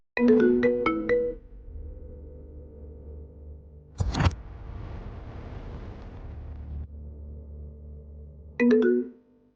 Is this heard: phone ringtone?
yes